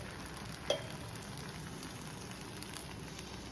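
Rava dosa fries in oil on a pan with a steady, soft, close sizzle and crackle throughout, plus one brief clink early on.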